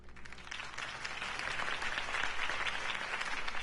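Crowd applause in the Batman: The Telltale Series video game, following Harvey Dent's campaign speech; a steady wash of clapping that swells slightly and holds at a fairly loud, sustained level with no talk over it.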